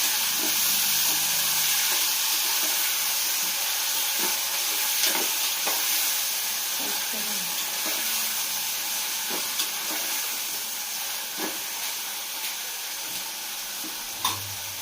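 A mixed vegetable masala curry sizzles and fries steadily in a pan while being stirred, with occasional scraping clicks of the spoon over a constant hiss, close and fairly loud, no talking.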